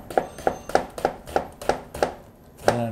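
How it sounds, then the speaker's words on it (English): A knife chops onions on a cutting board in eight close, evenly spaced thuds, with a voice briefly heard at the end. "I didn't really want to chop onions anyway"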